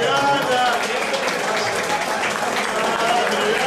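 Applause from a reunion gathering of former classmates, a steady wash of many hands clapping at moderate distance, continuous throughout with some voices mixed underneath.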